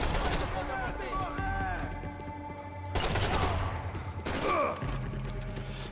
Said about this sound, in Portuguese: arregacei o cara no tiro